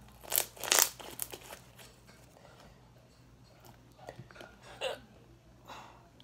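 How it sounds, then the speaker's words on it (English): Sharp, sudden hiccups from a girl come in quick bursts near the start, then fainter ones later, close to the listener with soft rustling and handling noise between them. "I have the hiccups."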